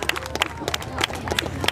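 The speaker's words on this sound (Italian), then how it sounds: "Perfetto, un bel applauso a questi giovani" Applause and clapping from an outdoor crowd honoring young runners at a cross-country race awards ceremony in Marina di Massa, a dense steady patter of hands with a voice over it.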